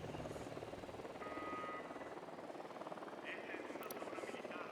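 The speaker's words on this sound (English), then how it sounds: "The drone is up." A drone hovers in the video game Ghost Recon Wildlands, giving a steady, faint rotor buzz that drones on without a break while voices talk over it.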